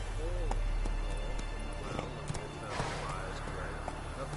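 Hooves of Roach, Geralt's horse in The Witcher 3, clop softly at a slow walk beneath a steady background hum of ambient game sound, with scattered louder taps and a faint distant voice.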